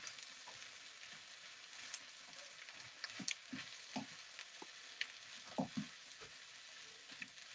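Kway teow pad thai noodles with bean sprouts stir-fried in a pan, a steady soft sizzle with irregular scraping and tossing clatters as the noodles are mixed, close and alone.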